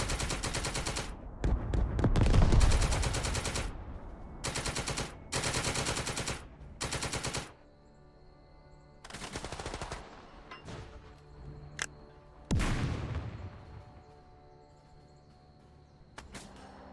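Sustained gunfire in the Second Front wartime strategy game, with several loud bursts of rapid automatic fire separated by short pauses, then quieter scattered single shots and distant cracks over a low hum.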